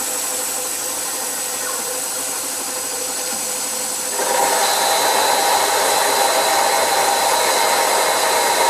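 Myford Super7 lathe turning EN8 steel with a 1 mm deep cut at 750 RPM, a steady whirring hiss that grows louder and brighter about halfway through as the cut engages.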